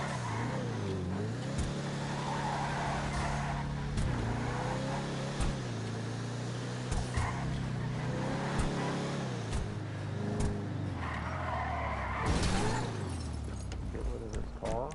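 Car engine in GTA 5 Online droning and revving with pitch swings as the vehicle accelerates and skids, continuous throughout with a voice talking over it.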